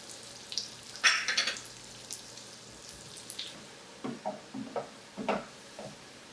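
Half a cup of raisins roasting in about 50 grams of butter in a pan gives a soft, steady sizzle, with light stirring scrapes and occasional louder sputters close by.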